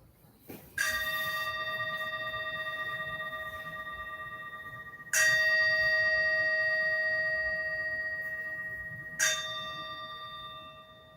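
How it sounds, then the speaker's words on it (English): A meditation bell at a Wednesday service rings three separate times, each clear metallic strike sustaining with a long shimmering tone that slowly fades before the next, alone in a quiet room. "As the sound of the bell fades"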